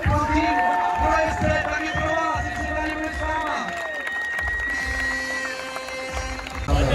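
A crowd at a car race event in Čáslav cheers and applauds the drivers, a steady wash of clapping and crowd noise with a loud voice speaking over it throughout.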